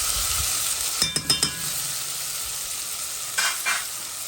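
Tomatoes and thyme sizzle steadily in a cooking pot, with a few sharp clinks of a utensil stirring in quick clusters over the constant frying hiss. The sound is close, with no talking.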